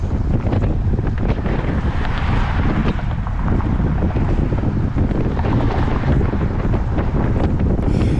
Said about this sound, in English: And it is really gusting.